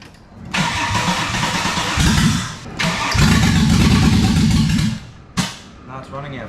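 A Holden VY Commodore with a swapped Ecotec engine is cranked repeatedly, with long bursts of loud, close starter churning broken by short pauses, then a final brief crank and sputter.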